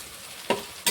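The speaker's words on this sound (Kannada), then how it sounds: "ಫ್ರೈ ಮಾಡ್ಕೊಳ್ಳೋಣ ಈರುಳ್ಳಿ ಕೆಂಪು ಇವಾಗ ಟೊಮಾಟೊ ಹಾಕೋತೀನಿ ನೋಡ್ರಿ" Onions frying in a pan with tomato and green chillies, a steady soft sizzle broken by two brief louder scraping stirs, close and alone without talk.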